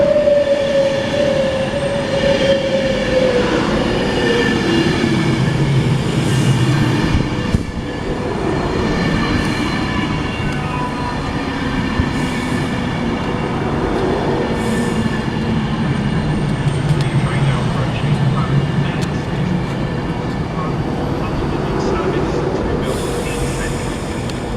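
A Class 390 electric train departs Watford Junction for Birmingham New Street, a loud continuous rumble and whine of wheels and motors close by, with a rising pitch early on and voices faintly present.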